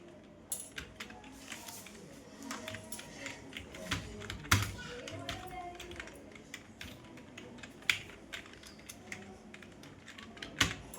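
Keys clatter on a computer keyboard in quick, uneven bursts with several sharper clicks, as text is entered into an MS Word resume, close and mostly alone under a light background.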